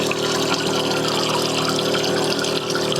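A liquid pump draws water from a container in Northern Territory wetlands, a loud, steady mechanical drone with a rushing, gurgling flow running continuously close by.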